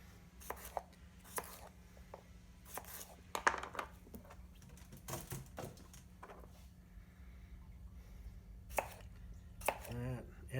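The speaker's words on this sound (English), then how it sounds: "So I'm going to cut these in thirds that way, and then half that way" Knife chopping cauliflower on a cutting board, scattered sharp irregular thuds and clicks at close range, fairly quiet overall with low background hum.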